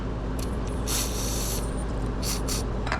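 Brake cleaner sprayed from an aerosol can onto a 2023 Harley-Davidson Low Rider ST during an oil change, several short hissing bursts over a steady background drone.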